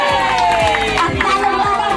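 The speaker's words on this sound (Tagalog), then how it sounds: "Wala bang palakpak dyan?" A loud crowd at a Christmas party, gathered in a hut, cheers and shouts in a dense, continuous roar, with rhythmic claps and overlapping voices throughout.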